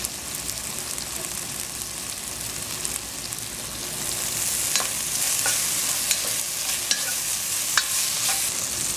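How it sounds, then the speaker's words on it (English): Okra tossed into onions browning in a pan for a Caribbean fish broth brings a loud, steady sizzle that swells midway, with crackling pops and stirring scrapes up close. "Just as the onions start to turn a bit brownish, we're going to throw in the okra."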